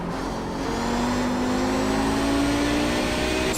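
An Audi 90 GTO race car engine accelerating in iRacing at Mosport, a loud, close engine note whose pitch climbs steadily as the throttle opens, continuous and without speech.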